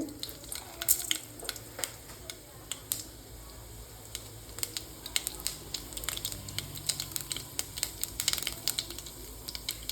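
Mustard seeds and urad dal spluttering in hot oil: a dense, uneven crackle of close, sharp pops over a low hiss, growing busier toward the end.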